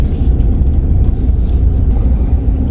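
Steady low rumble of road traffic from inside a moving car, a continuous loud engine and tyre drone with no distinct passing vehicles.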